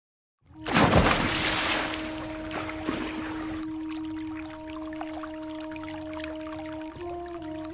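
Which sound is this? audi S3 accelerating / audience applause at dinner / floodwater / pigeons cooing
floodwater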